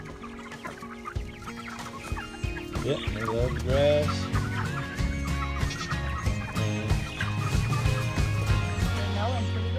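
Chickens cluck on a lawn where goats and chickens graze, their calls scattered through the clip near the microphone. People talk over them and a low rumble runs underneath.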